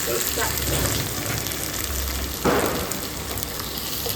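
A cut tomato sautéing in a hot pan for a green turkey berry kuzhambu, giving a steady close sizzle with a sharper burst of hissing partway through as it is stirred.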